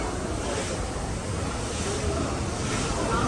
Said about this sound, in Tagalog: Guys, ito yung masinong barko.